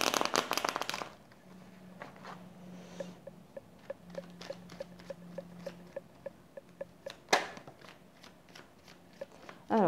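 Tarot cards being shuffled and handled, soft riffling first, then quiet rhythmic card taps and flicks, with a faint hum, a brief louder rustle and a burst of handling at the end.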